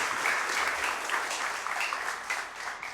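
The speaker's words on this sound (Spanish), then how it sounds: "Démosle un aplauso fuerte al Señor." A church congregation applauds loudly and steadily throughout, a dense wash of many clapping hands with no talking.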